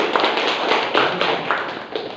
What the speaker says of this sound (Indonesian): Berikan tepuk tangan untuk Arga.